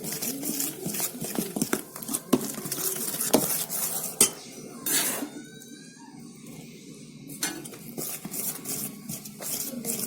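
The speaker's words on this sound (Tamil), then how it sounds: "கொஞ்சம் கொஞ்சமா போட்டு கிளறி விடுங்க" A spoon scrapes and clinks against a metal bowl while ragi and wheat flour are stirred little by little into an eggless cake batter, with irregular close taps and rattles and a brief quieter pause midway.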